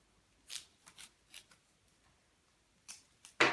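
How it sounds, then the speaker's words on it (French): Adhesive tape is pulled from a roll and pressed down while fixing a macramé hanging, heard as several short, close crackling rips spaced irregularly and ending in a louder tear, in an otherwise quiet room. "je vais mettre du scotch."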